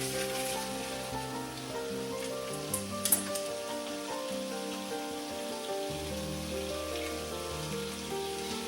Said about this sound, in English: So I'm going to turn it up, get it rolling up here, nice sizzle.